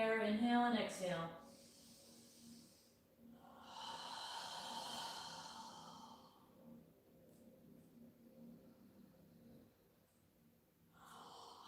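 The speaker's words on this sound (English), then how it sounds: "Exhale through your mouth. As you're exhaling, imagine that you're fogging a mirror with your breath." A slow, relaxed exhale through the mouth during a calm yoga breathing exercise, a soft airy hiss lasting a couple of seconds after a brief voice at the start, then quiet room tone.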